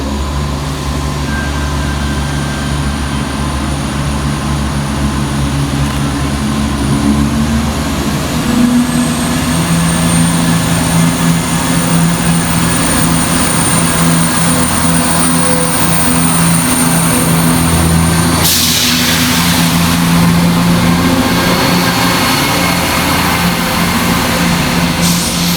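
ScotRail Class 170 diesel multiple unit 170428 at Edinburgh Haymarket, working the 15:21 Waverley to Leven service: a loud, steady engine drone that rises in pitch partway through, with a burst of broadband hiss near the end.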